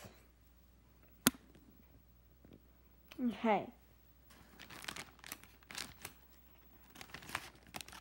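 Scissors cutting into a plastic T-shirt bag, giving a sharp snip and a burst of plastic crinkling, followed by scattered rustles while a person talks.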